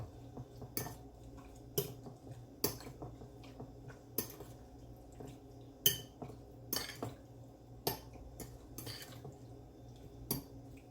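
Shrimp tossed with hot sauce and seasoning in a bowl, giving repeated sharp clinks of a utensil against the dish over soft wet squishing, steady and close with no talk.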